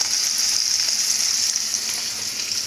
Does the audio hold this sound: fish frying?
yes